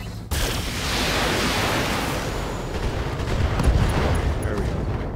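A BattleTech mech lets off an aimed shot, a sudden loud blast that swells into a long, roaring rumble of weapon fire.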